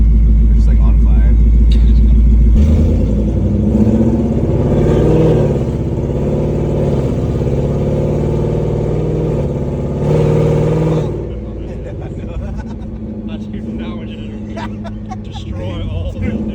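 A Ford Mustang S550 with an automatic transmission accelerates, its mid-pitched engine rumble climbing and then falling as the gearbox shifts. The engine is loud and close, and voices can be heard over it now and then.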